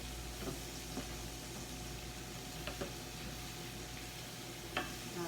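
Onions, pancetta and garlic sizzle and crackle in a pan under steady stirring, a quiet continuous frying hiss with a few soft scrapes of the spoon.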